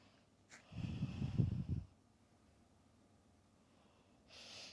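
Breathing in a yoga twist, looking over the shoulder during a 30-minute session: one soft, close breath of about a second, audible and slightly nasal, followed by quiet.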